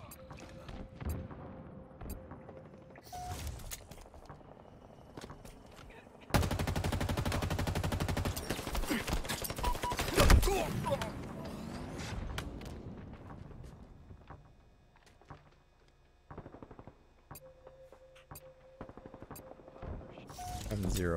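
A sniper-like rifle in Halo Infinite multiplayer fires amid sharp shots and a dense burst of heavy gunfire in the middle. Chatter and game sounds run throughout.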